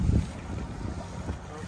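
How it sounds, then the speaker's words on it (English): A Mercury 115 outboard motor runs in gear on a 2015 Tracker Pro Guide 175 bass boat. A low, steady engine rumble mixes with wind buffeting and water noise, heard close and continuous. "Let's go ahead and put the boat in gear and run it around a little bit."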